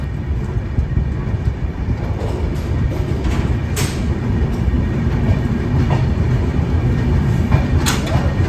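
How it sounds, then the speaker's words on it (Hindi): Farakka Express passenger train running on the rails, steady rumbling clickety-clack with a loud constant roar and occasional sharp squeaks, heard close up from on or beside the train. "फाइनली हमारी ट्रेन आ चुकी है दोस्तों"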